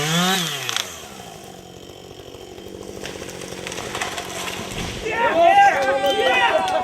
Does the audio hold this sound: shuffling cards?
no